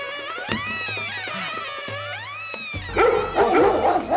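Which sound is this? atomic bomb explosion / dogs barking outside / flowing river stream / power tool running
dogs barking outside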